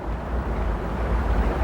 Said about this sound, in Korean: 지나가는 바람 소리와 산속 시냇물 소리 말고는 생명의 흔적이 없다